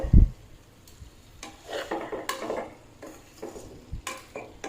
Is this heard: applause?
no